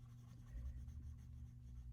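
Ebony pencil shading across paper, a steady soft scratchy rasp that continues evenly for the whole stretch over a low background hum, close and without talking.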